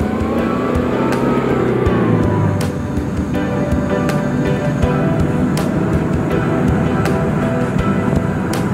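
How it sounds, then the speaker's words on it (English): An all-terrain vehicle labours through soft desert sand in Namibia, its engine a loud, continuous close-up drone that strains and revs throughout, with no voices. "With great effort, the vehicle hauls itself through the desert sand."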